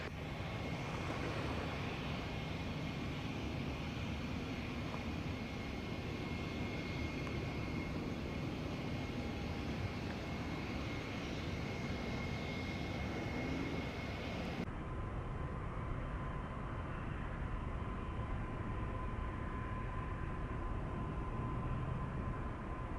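An airplane near a Jamaican airport, on approach to land, gives a steady, loud broadband engine roar that holds for the whole stretch without a break, with no talk over it.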